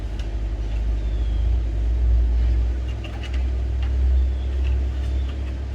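Trucks drive up a nearby road, giving a loud, steady low engine rumble that rises and falls slightly throughout.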